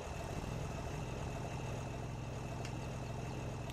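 A tractor engine in Farming Simulator 2017 runs at a steady idle, a constant low rumble with no talking.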